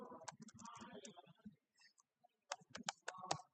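Short bursts of computer keyboard keystrokes, a handful of sharp, close clicks in quick succession, follow a stretch of muffled voice-like sound and a brief pause.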